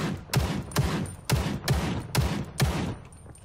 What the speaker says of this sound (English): Sounds like there's shots to our left.